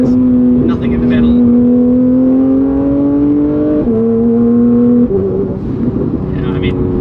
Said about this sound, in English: you press the throttle pedal like this far, Yeah. and you're already going quicker than you realise.